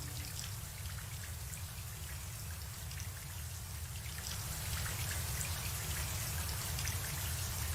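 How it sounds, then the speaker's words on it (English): Steady rain from a Makoto Shinkai film falls heavily and evenly, with dense close pattering on surfaces and no voices over it. "he really likes rain"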